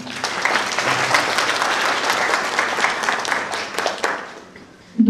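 Audience at a postsecondary nursing school in Onești applauding a newly introduced chief school secretary: a burst of dense clapping from many hands that holds for about four seconds, then thins out.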